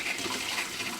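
Water gushing steadily from the highest tap in a motorhome fresh water system as sanitising solution is flushed through, a continuous close splashing hiss with no talk.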